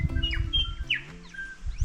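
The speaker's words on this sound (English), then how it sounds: "Bird song is pretty amazing." Birds sing along the Abel Tasman Coast Track in New Zealand, quick bright chirps and sliding whistles scattered over a low background rumble, clear and fairly near.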